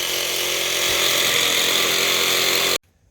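A power saw trims excess material off a tailgate, running as a loud, steady buzzing whine for nearly three seconds before cutting off abruptly into silence.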